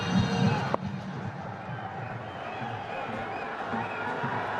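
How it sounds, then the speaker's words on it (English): Partisan crowd at an India vs Pakistan legends cricket final cheering in a steady, broad roar, a louder surge at the start then sustained stadium noise under the broadcast. "Partisan crowds."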